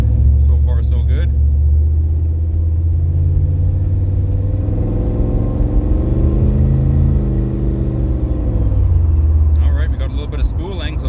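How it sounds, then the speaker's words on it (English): A boosted LS V8 car engine on a slow drive round the block, with its turbocharger spooling up. Steady, loud low engine rumble rises and falls across the middle of the clip, framed by short bursts of nearby talk at the start and end. "Bit of spooling, so that's nice."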